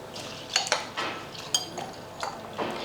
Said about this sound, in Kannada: ಇದಕ್ಕೆ ನೀರು ಹಾಕಿ ಒಂದು 2-3 ಸಲ ತೊಳಿತೀನಿ ರೀ.